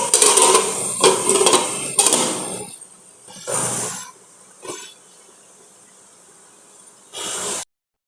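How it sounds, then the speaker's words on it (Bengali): A lid set over a pan of orange cake batter for baking, heard as several bursts of metallic clatter and scraping, with a louder cluster at the start, a few shorter knocks after, and a final brief rattle. "এখন আমি একটা ঢাকনা দিয়ে এটা ঢেকে দেব"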